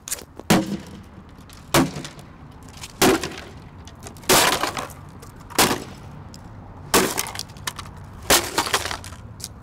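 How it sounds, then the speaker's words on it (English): A guitar is smashed repeatedly, producing about seven loud, close splintering crashes at irregular intervals, with quieter rattling between them and no talking. "giving you a pretty girl smashing a guitar"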